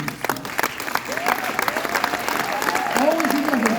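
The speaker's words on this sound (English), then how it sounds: "You can clap your hands" Audience clapping at a concert in Las Vegas: a steady wash of applause that builds slightly, with voices singing or speaking over it.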